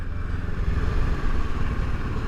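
Kawasaki Ninja 650 motorcycle engine running steadily close by, a continuous low rumble with a loud, even drone and no talk over it.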